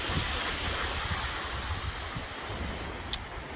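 Ocean surf rolls onto the shore at Cocoa Beach, Florida, a steady broad wash of breaking waves mixed with wind rumble, continuous and moderately loud.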